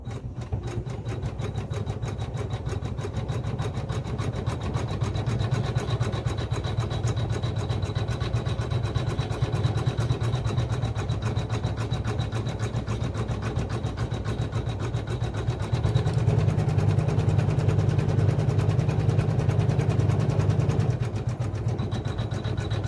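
Janome Memory Craft 500E embroidery machine stitching a kid's shirt, a steady close rapid mechanical whir and needle chatter running throughout, growing louder and heavier partway through, no talking.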